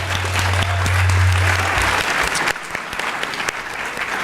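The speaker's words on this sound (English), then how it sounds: "So give them some applause." An audience at a Skyline High School student leadership event claps loudly, a dense burst of applause that builds then gradually thins and tapers off.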